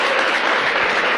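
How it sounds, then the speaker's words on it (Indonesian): Audience applause fills a hall at a motivational business seminar, a dense, steady wash of clapping held at an even, fairly loud level for a brief moment with no voices over it. "Jadi nggak ada salahnya kita beri tepuk tangan buat Tianzi dan One Vision ya."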